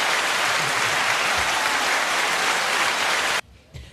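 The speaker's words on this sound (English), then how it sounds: "Better give them a little applause." Dense, steady applause fills the room for several seconds, then cuts off abruptly, leaving a brief quiet tail with faint low sounds.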